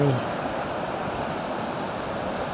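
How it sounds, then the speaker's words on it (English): Continuous broad rushing of creek water flowing at a beach, steady and fairly loud, with a brief voice fragment at the very start. "you can see the water rushing from the creek over here."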